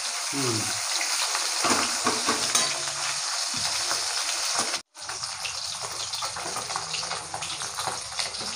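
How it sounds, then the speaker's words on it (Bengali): Lata fish fry in hot oil in a pan, a steady broadband sizzle that carries on loud and continuous, with a brief cut near the middle and a few clinks of stirring. "মাছগুলো ভাজা হয়ে গেছে, তুলে নেবো।"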